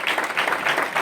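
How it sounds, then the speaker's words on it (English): Crowd applause at a Randallstown Panthers celebration, steady dense clapping filling the whole second at close range with no talk over it. "Let's give them a round of applause."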